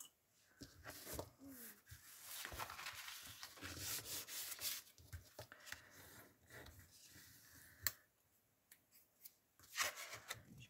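Material is creased into folds by hand while organizing a large desk drawer, with soft close rubbing, scraping and crinkling strokes in uneven bursts and occasional sharp taps, and no talk.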